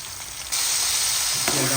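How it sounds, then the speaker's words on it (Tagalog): Chopped tomatoes hit a hot pan and are sautéed, the quiet background jumping at once into a loud, steady sizzle with a brief stirring scrape near the end. "Nailagay na rin po natin ang ating kamatis. Ayan, igisa-gisa lang po natin yan."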